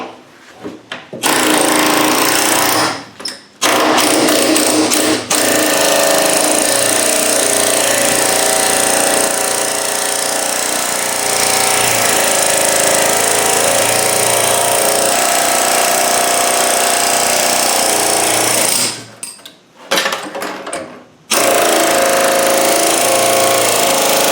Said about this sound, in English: those useless chisel bits you get with your air chisel now become useful, don't they?